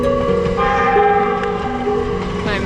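A train rumbles past on a snowy evening in Hakone, Japan, its steady tonal hum and rail noise loud and close for the whole stretch, with a brief horn-like tone rising near the end.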